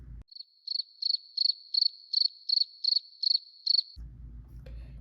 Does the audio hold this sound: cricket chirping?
yes